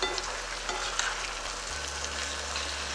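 Pieces of meat sizzle and fry steadily in a hot pan, a dense continuous crackle with faint stirring scrapes and no talk.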